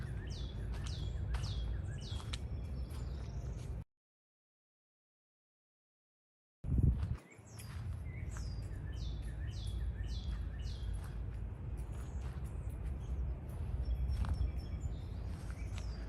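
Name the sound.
birds chirping outdoors at McConnell Springs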